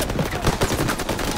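Dense, continuous rattling gunfire in Call of Duty WW2 video game, a Battle of the Bulge campaign battle, loud and close with rapid overlapping shots filling the whole moment.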